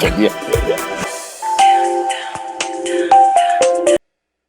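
A mobile phone ringtone plays a bright, stepping electronic melody of sustained tones for about two and a half seconds in a Hindi TV drama scene, cutting off abruptly after a brief moment of voices at the start.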